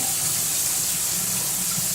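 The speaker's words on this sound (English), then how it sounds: "Cold water on your face. Give yourself a splash." Cold tap water splashing and running in a sink while someone rinses their face after a straight-razor shave, a continuous close gush with no pauses.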